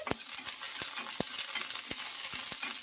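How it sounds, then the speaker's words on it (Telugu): Green chilies, garlic and ginger frying in oil in a kadai, a close steady sizzle punctuated by sharp metallic clinks from a spoon against the pan, no voices. "ఈ మిర్చి మనకు బాగా ఫ్రై అయిపోవాలి ఈ ఆయిల్లో"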